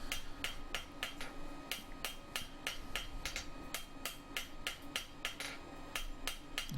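A hammer strikes hot metal on an anvil while a small window stay is forged to a stubby point, with about twenty sharp ringing blows in an even, brisk rhythm, close and alone.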